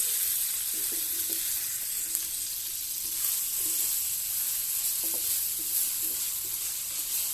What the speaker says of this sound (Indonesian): Setelah minyaknya panas, kita tuangkan bumbu yang sudah dihaluskan tadi ya